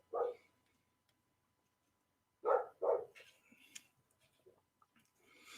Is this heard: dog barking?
yes